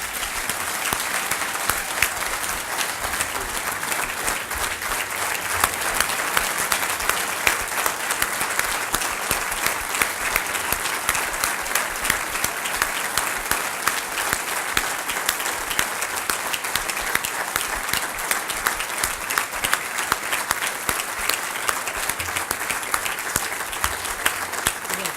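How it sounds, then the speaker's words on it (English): A graduation ceremony audience applauds for an award recipient, a loud, sustained roar of many hands clapping in a large hall, steady and unbroken from start to finish. "I want you to applaud his accomplishment."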